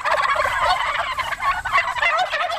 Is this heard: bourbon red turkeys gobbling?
yes